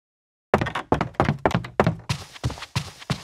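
Footsteps in a Unity game set up with Wwise switch from rug to wood surfaces, a steady walking rhythm of about ten close thuds, softer at first and then brighter and harder.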